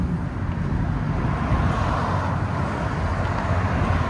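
A 2018 RAM with the 5.7L HEMI V8 and an X-pipe with Carven R-Series mufflers, rumbling in a steady, deep, close idle-like drone with no revving across the few seconds.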